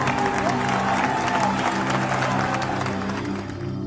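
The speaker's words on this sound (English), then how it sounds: "My applause." An audience at a magic show for a corporate or private event claps together in a dense, steady round of applause that tapers off slightly at the end, with a few voices mixed in.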